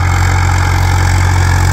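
A Swaraj 843 XM 4x4 tractor pulls a harrow through hard, compacted paddy field soil. Its diesel engine drones loud and close with a steady, unbroken low throb and no voices.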